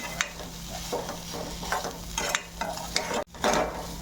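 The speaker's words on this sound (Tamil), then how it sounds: "ஜஸ்ட் ஒரு அரை நிமிஷம் வதக்கி விட்டிங்கன்னா போதும்" Pumpkin poriyal with grated coconut is sautéed in a pan, soft sizzling under repeated scraping stirs of a spatula, close and fairly quiet, with a brief pause before the stirring resumes.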